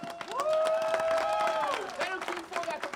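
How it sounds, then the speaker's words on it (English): An audience at a Hungarian heritage festival folk dance show claps and cheers, the applause spreading into scattered hand claps while a loud voice and sustained tones carry over it. "Nagy tapsot, big clap for the guys!"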